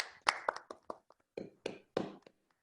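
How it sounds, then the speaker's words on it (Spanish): A few people in an audience clap at the close of an online seminar, producing a short run of sparse, distinct claps up close rather than full applause. "Un aplauso para la audiencia"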